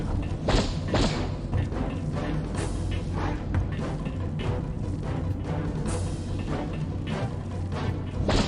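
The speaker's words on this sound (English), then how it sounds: "Surprise turret!" A turret firing in the video game Aliens vs Predator 2: Primal Hunt, a dense run of heavy thuds and booms over a loud, continuous game soundscape.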